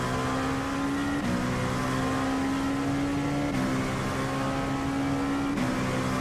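A racing car engine in the iRacing simulator holds a loud, steady high whine, broken by three quick upshifts spaced a couple of seconds apart. The engine is heard alone, with no talk.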